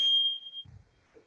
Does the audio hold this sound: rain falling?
no